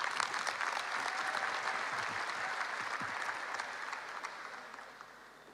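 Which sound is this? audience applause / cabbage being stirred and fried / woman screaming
audience applause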